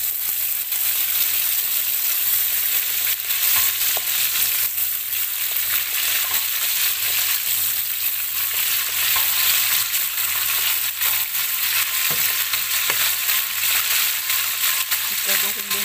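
Prawns fry in a pan with a dense, steady sizzle and occasional stirring knocks, loud and close throughout, with a faint low hum underneath.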